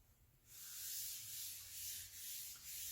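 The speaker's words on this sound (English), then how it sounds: "And I fuzzed on the terry cloth." Chalk transfer rubbed briskly on the terry cloth side of a fuzzing towel, a close, steady scratchy rubbing that starts after a brief quiet moment and continues with slight swells.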